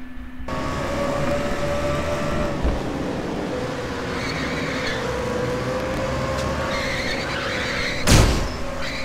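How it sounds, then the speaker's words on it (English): An MG Cup race car engine drones steadily beneath loud crowd or track noise at Riverside, then a sharp crash impact bursts out near the end. "Man, that is a hard crash for the 86"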